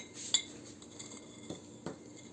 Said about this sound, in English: Maybe I should take the spoon out.